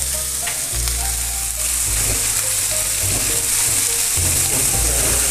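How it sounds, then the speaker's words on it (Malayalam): Sliced onions sautéing with salt in a pan, a steady close sizzle and frying crackle with occasional stirring scrapes and no talk. "സവാള ഇട്ടൊന്ന് മുപ്പിക്കാം"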